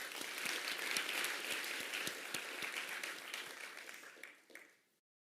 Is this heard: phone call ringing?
no